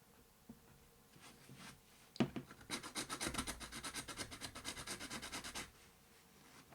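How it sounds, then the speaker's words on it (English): A rapid rhythmic rasping of a white pencil's graphite scraped back and forth on a sanding block, close up and steady for a few seconds, then stopping. "I'm just going to use a sanding block to get one sharp edge"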